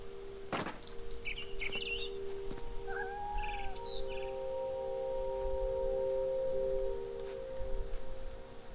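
A bird chirps in the video game What Remains of Edith Finch, giving a few short, bright tweets and trills over a quiet, steady ambient drone, with a faint metallic jingle near the start.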